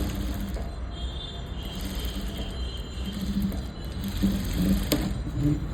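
A sewing machine stitches blouse fabric while attaching an invisible shoulder, running as a steady, close mechanical whir with a rapid needle clatter throughout.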